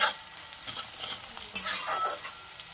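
Onions frying in a pan for a fish-head muri ghonto, with a soft continuous sizzle and a few scraping stirs, one slightly louder burst midway.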